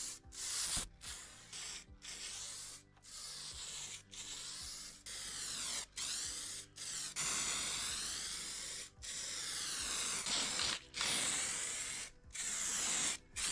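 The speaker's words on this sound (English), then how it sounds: "I'm now going to apply a spray-on gloss varnish for the finish of this piece." An aerosol can hisses out steady spray of gloss varnish onto a restored 1930s dresser in repeated bursts, each separated by brief pauses, close and fairly loud with no talking.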